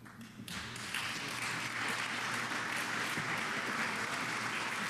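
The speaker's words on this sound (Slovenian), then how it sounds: "Kakšen aplavz." Audience applause at a panel discussion on Slovenian entrepreneurship, a dense, steady patter of many hands clapping that starts abruptly and holds at an even level, fairly faint and without talk.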